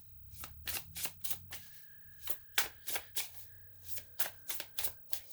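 Tarot cards are shuffled by hand in a rapid series of crisp riffling bursts, close and fairly quiet, with no talking over them.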